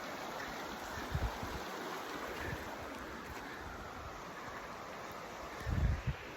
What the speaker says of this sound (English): here's your rivers that run through here